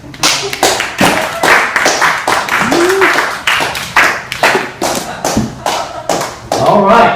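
At a comedy night, a small crowd claps in irregular, loud, close hand claps, with scattered voices mixed in throughout.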